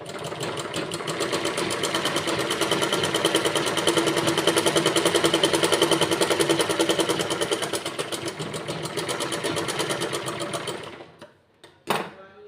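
A sewing machine stitches a four-tuck blouse in one steady, rapid run of needle strokes, close and even, then stops near the end with a couple of brief clicks.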